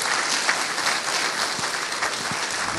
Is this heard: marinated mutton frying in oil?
no